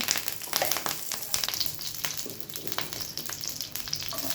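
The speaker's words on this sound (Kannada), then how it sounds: "ತವಾಗೆ 1-2 ಟೇಬಲ್ ಸ್ಪೂನ್ ಎಣ್ಣೆ ಹಾಕಿದ್ದೀನಿ. ಅದಕ್ಕೆ ಸಾಸಿವೆ ಹಾಕೋಣ, ಕರಿಬೇವು" Mustard seeds and curry leaves frying in a spoonful or two of oil on a tawa, a continuous crackling sizzle with small pops, close and steady throughout.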